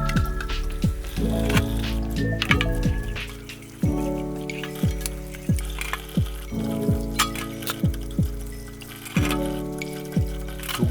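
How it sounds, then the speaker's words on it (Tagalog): Dishes being washed in a kitchen sink make squishing, dripping and pouring water sounds, with clinks and sloshes in an uneven rhythm, close by. "Hugas ulit ng pinagkainan."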